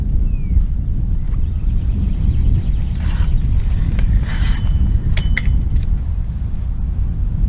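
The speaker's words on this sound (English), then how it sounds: "you can just put your foot on the bottom and raise it up until it clicks" A pop-up canopy tent leg on an Erromy 10x20 canopy is raised and clicks into place. Soft scraping and metallic rattles come first, then a few sharp clicks close by over a low rumbling background, with no talk.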